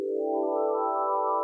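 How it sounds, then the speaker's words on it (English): A supernova sonification from space: one sustained, droning tone with layered harmonics that swells slightly and holds steady, loud and alone for its short length. "Supernovas sound like this?"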